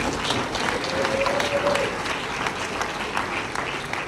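Loud applause from a crowd at a staff award ceremony, dense clapping sustained for several seconds, close and continuous.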